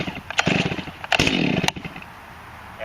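A chainsaw is pull-started: a few sharp ripping cord pulls with sputtering engine bursts, then a brief rough catch of the engine, loud and close, fading to quiet at the end.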